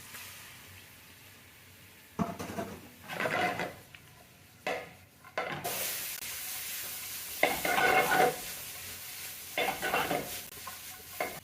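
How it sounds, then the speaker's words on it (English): Peppers, hot pepper and carrot sautéing in oil for Jamaican-style vegetables, with bursts of sizzling as the pan is stirred, separated by quieter pauses, plus occasional clinks of a utensil against the pot. "We're going to saute this for about 2 minutes."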